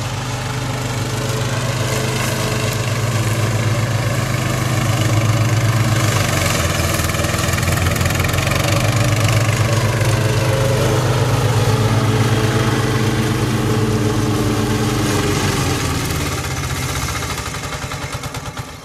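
A grass-cutting machine's engine, one that has already stalled once, runs loud and steady for the whole stretch, a continuous idling drone with a slight drop at the very end.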